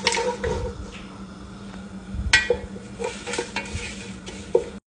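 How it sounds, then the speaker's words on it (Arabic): Spices frying in oil in a pot for kabsa, a soft continuous sizzle broken by scraping stirs and a few sharp clinks of a utensil against the pan, close and moderately loud. "وهنا انحمست البهارات، بس ما ابيها تسود تحترق عشان ما تغير علي لون الكبسة"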